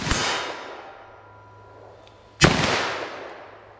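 Two loud .357 Magnum handgun shots fired outdoors, a sharp crack at the start and another about two seconds later, each with a ringing decay and no talk.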